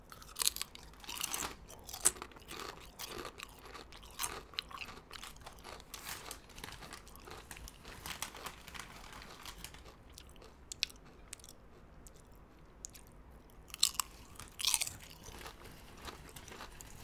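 Lay's potato chips eaten alongside a peanut butter and jelly sandwich make close, crisp crunches and steady chewing, with repeated bites and crinkling sounds that run continuously with no talking.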